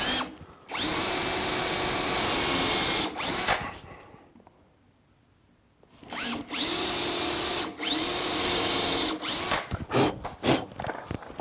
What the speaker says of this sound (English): So we'll drill here.